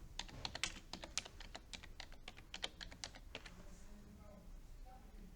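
Quiet rapid keystrokes clatter on a computer keyboard while entering a spreadsheet, in bursts for a few seconds before easing off into faint room noise.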